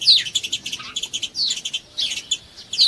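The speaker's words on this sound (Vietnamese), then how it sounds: "Sparrow." A sparrow chirps in a series of short, bright, high tweets coming in quick clusters with brief pauses between them, close and clear with no voices.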